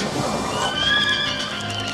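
Horses whinny inside a barn, a high shrill neigh rising and falling in the middle over a muffled, steady background, with faint hoof shuffling nearby.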